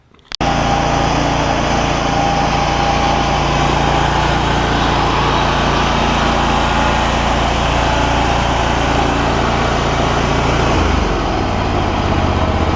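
A John Deere ZTrak zero-turn mower with a Kohler V-twin engine runs steadily up close after sitting two years and having its carburetor cleaned. The engine holds a loud, even drone with a brief dip near the end.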